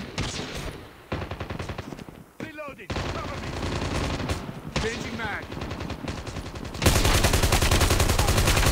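Automatic gunfire rattles almost nonstop in a Call of Duty Mobile match, rapid close shots in long bursts that grow louder toward the end, with brief game effects in between.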